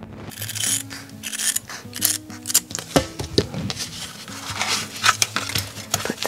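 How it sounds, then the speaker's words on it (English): Scissors snip material being cut to size for fitting inside an RV, giving a series of close, crisp cuts with rustling handling in between. "I'm going to measure this and cut this and fit it in there."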